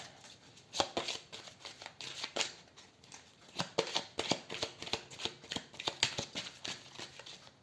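Tarot cards are shuffled and handled close up in a rapid, uneven flurry of crisp riffling and slapping bursts with no talk over them.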